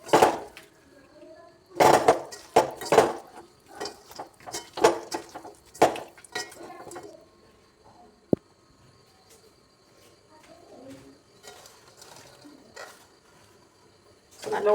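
Chicken being mixed in a dish with salt, turmeric and curry leaves in a home kitchen, heard as a string of sharp clinks and scrapes of a utensil against the dish, which are loud at first and then thin out to occasional taps under quiet talk.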